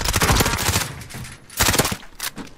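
Rapid bursts of gunfire aimed at a sniper in Call of Duty Warzone, Modern Warfare, loud and close with dense volleys at the start, then a pause and two further sharp bursts.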